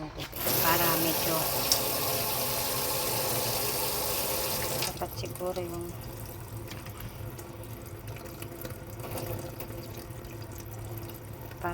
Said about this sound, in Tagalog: Lalagyan ko lang ng konting tubig.